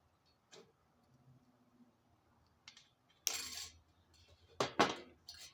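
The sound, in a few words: wire being cut for a wire cross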